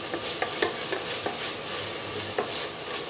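Mint leaves and tomato sautéing in a pan for kurma, a steady sizzle under a quick, regular series of spatula stirs and scrapes.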